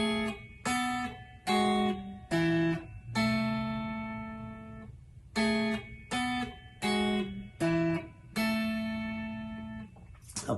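Clean guitar plays a slow melody of plucked sevenths and octaves, each ringing pair struck separately with brief gaps, quiet and alone.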